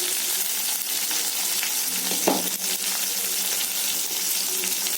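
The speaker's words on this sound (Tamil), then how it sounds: "பெரிய சைஸ் வெங்காயம் ஒன்று நல்லா வதங்கட்டும்" A large onion and a small tomato sautéing in a pan, a continuous even frying sizzle close by, with one brief stirring clatter near the middle and no talking.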